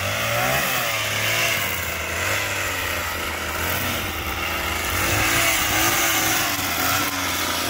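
A grass trimmer runs outdoors while cutting grass, a steady high engine whine close by, holding nearly constant with slight rises and dips in pitch and no talking over it.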